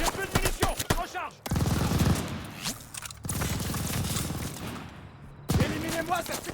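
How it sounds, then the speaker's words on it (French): Machine gun fire from a tower rakes the battlefield in the Call of Duty: Vanguard campaign, loud dense bursts broken by brief gaps and abrupt cuts, with shouting voices and explosions in the mix. "La mitrailleuse de la tour!"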